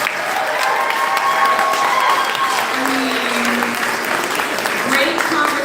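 Audience at a brunch event gives a round of applause for the panelists, steady close clapping with some cheering and chatter mixed in throughout.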